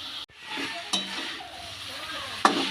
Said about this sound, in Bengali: যত শুকনো হবে আচারটা কড়াইতে এরকম নাড়তে নাড়তে যত শুকনো করব ততই কালারটা চেঞ্জ হতে থাকবে